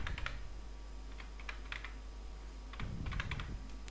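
A computer keyboard clatters faintly as someone types in a Linux terminal, short bursts of key taps separated by brief pauses against a low steady hum.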